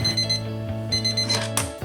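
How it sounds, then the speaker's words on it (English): An alarm clock rings steadily with a tonal, repeating electronic beep pattern, loud and close, with no voices. "Every morning we started our day with the morning alarm at 6 a.m."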